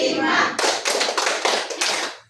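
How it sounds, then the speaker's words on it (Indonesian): A group claps in rapid, close bursts after an ice-breaking count in a classroom, five or six sharp pulses following a noisy stretch of voices. "Tepuk 5."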